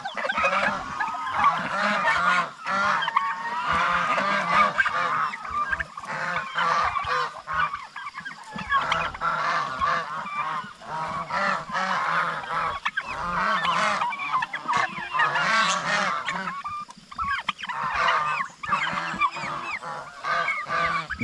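A large flock of turkeys calls continuously outdoors, a dense, overlapping chorus of gobbles and honk-like cries that stays loud throughout with no talk.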